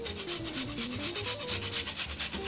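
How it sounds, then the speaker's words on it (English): A lemon rubs across a grater as zest falls onto green beans, giving rapid, regular rasping strokes close to the microphone, steady and rhythmic with no talk. "I'm gonna grate some lemon onto the green beans."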